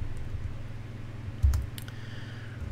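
A few soft keystrokes on a computer keyboard, faint and sparse, clustered near the middle of the clip over a low steady electrical hum.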